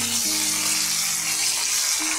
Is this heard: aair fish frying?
yes